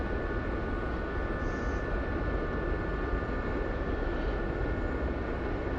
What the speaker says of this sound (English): I will close the throttle back to ground idle.